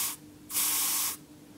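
Deodorant is sprayed from an aerosol can over a laser beam in two hissing bursts, a short one and then a longer one of about half a second, close and clear with no talking.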